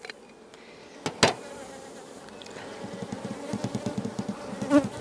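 Honey bees buzzing on a hive frame during a varroa mite check, a close steady droning hum with a few sharp clicks and knocks early on.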